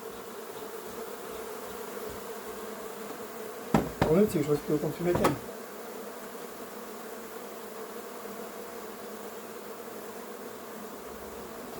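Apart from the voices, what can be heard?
swarm of honeybees buzzing during hive removal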